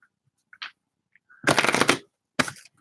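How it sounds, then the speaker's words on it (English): A deck of tarot cards is shuffled close up: a few soft flicks, then a dense riffling burst lasting about half a second, followed by one more short riffle, with near silence between. "Let me go ahead and shuffle this deck"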